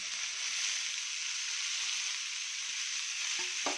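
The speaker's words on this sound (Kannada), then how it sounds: "ಇವಾಗ ತರಕಾರಿ ಫ್ರೈ ಆದಮೇಲೆ ಈ ಸೊಪ್ಪು ಹಾಕ್ತಾಯಿದ್ದೀನಿ" Vegetables and greens fry in a pan with a loud, continuous, even sizzle, close up, and a faint utensil tap at the end.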